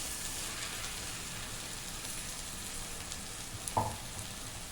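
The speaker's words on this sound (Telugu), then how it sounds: "ఇప్పుడు టమాటా కూడా ఎగుతుంది." Broad beans and tomato frying in oil in a pan for a bean curry, giving a steady, soft, close sizzle and crackle with one brief louder pop near the end and no talking.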